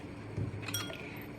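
A glass of water set down with a couple of light, close glassy clinks and a brief ringing tone, fairly quiet, with no talking.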